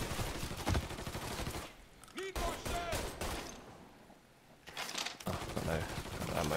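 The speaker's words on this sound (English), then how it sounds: "Just people just firing in here." Gunfire crackles in the video game Mafia III. Bursts of rapid automatic shots come in two busy stretches with a lull between them, mixed with game sounds and someone talking.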